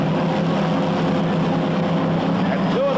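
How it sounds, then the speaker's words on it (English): Two supercharged alcohol-burning Pro Comp dragsters idle and rumble at the drag strip, a loud, steady engine drone that stays constant throughout. "These two cars very similar, alcohol-burning dragsters, supercharged engines, but running on alcohol."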